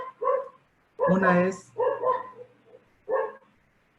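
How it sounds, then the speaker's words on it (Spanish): Dogs bark in a home office, several sharp separate barks, fairly close and loud, heard alone apart from a few brief spoken words. "Perdón por mis perros, por si los escucho"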